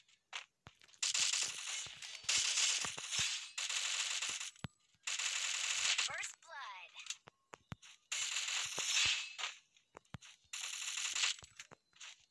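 Free Fire gunshots from M500 and AWM weapons, sharp individual cracks scattered among loud bursts of gunfire and game noise, with a voice talking in between.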